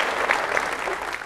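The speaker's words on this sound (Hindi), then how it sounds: "सब लोग ताली बजावता और हम भी आपके खातिर ताली बजा के" Steady audience applause on a Bhojpuri TV quiz show, a brief, even wash of many hands clapping at moderate loudness.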